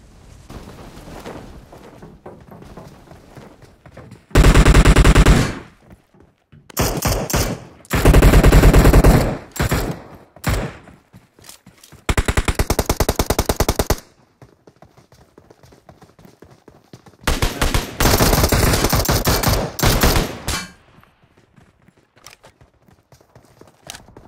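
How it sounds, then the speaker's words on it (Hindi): Bursts of machine gun fire in the PUBG video game at Georgopol, with several loud, dense volleys of rapid shots separated by quieter stretches. "Gunfight."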